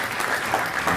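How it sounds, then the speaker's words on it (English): An audience at a CEO and CIO gathering applauds speaker Peter Korsten, a brief burst of dense, even clapping from a crowd indoors. "you deserve a round of applause"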